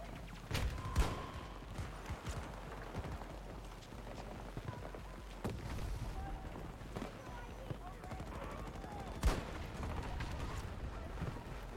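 Gunfire in Battlefield 2042, scattered sharp shots and short bursts with a couple of louder cracks, heard over a busy in-game battle backdrop while a player talks at moderate volume.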